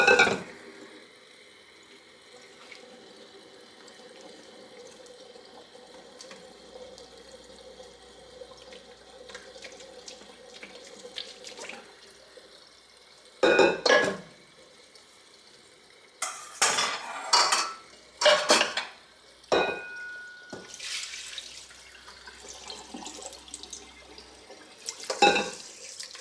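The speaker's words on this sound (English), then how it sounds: "I am going to wash some more buttermilk out of this butter so it lasts longer" Cold water runs from a sink tap while buttermilk is washed out of homemade butter, a steady stream that stops and gives way to bursts of clattering bowl and utensil handling and splashing.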